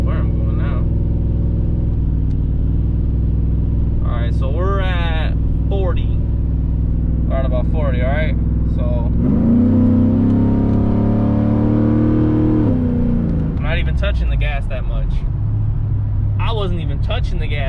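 A custom Chevrolet TrailBlazer SS engine drones low and steady while driving, swelling as the car accelerates midway, with someone talking over it throughout.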